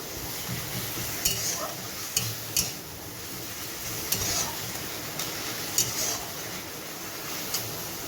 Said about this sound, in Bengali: আদা রসুন বাটাটা দিয়ে একটু ভালোভাবে নেড়ে চেড়ে কষিয়ে নেব